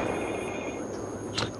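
A telephone ringing in the video game Battlefield 4, Operation Mortar map: a faint, steady electronic ring tone under game noise, with a brief brighter chirp near the end.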